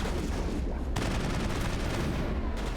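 Dense, continuous gunfire from the game Mass Effect, loud and close, rapid automatic bursts hitting an enemy for the whole stretch with no pauses.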